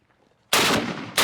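A single heavy gun fires close by with one sharp, loud blast and a short booming tail, and a second report follows about half a second later.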